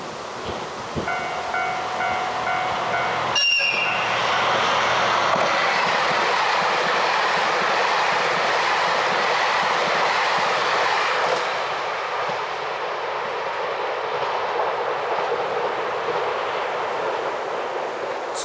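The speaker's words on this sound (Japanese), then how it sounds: "まもなく列車が入ってきます" A train rushes through Akaigawa Station in Hokkaido, Japan, a loud sustained rumble and roar of wheels on rails that holds steady, then eases slightly as it passes.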